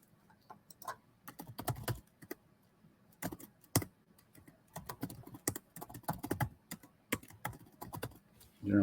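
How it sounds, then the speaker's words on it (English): Fast, irregular clattering of keys on a computer keyboard as query parameters are entered, close and clear, in bursts broken by short pauses, with no talking. "So let's go ahead and type those in."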